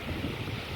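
Wind blows in a winter storm, a steady, full-bodied outdoor roar with no talking over it.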